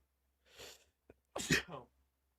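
A single sneeze with a short inhaled buildup and a brief click before the loud burst, close and alone in a quiet room.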